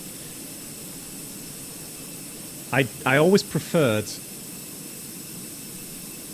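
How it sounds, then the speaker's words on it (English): IAE jet engines on a Fenix airliner in a flight simulator game make a steady, even hiss with a thin high whine, heard at moderate volume throughout. A short stretch of speech briefly sits on top. "Quick look at the beautiful IAE engines"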